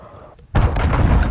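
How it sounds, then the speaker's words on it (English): A cruise missile detonates in Call of Duty Modern Warfare, a loud, close boom that hits suddenly after a quiet lead-in and rolls on as a dense, sustained rumble. "Cruise missile incoming!"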